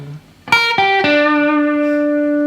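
An electric guitar with heavy distortion picks three quick notes of the Mission Impossible lead theme, the last one ringing out with long sustain, loud and close without any voice.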